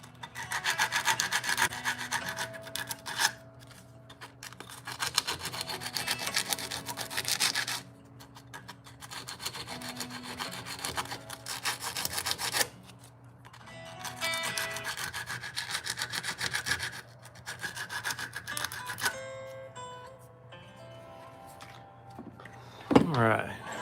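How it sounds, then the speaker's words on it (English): Sandpaper scrubs the edge of a handmade copper ring in repeated rasping strokes of uneven length, close and fairly loud, with short pauses between bursts and a sharp knock at the end. "Hit it with a little bit of sandpaper"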